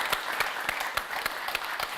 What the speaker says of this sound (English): So one big round of applause,